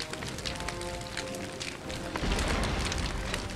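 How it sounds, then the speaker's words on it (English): Artillery shells a position in a Napoleonic battle video game, a dull, low rumbling boom swelling midway over continuous crackling battle noise. "there's my artillery shelling them"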